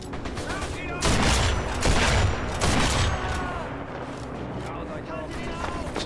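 Rapid gunfire from a faster-shooting weapon in the shooter Sniper Elite V2 fills the scene with loud, dense bursts of shots, heaviest early on and then easing, while a player talks.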